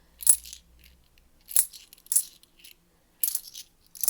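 £2 coins tip out of a post office bag in several separate clinking bursts, bright metallic rattles spaced by short quiet gaps, close and fairly loud.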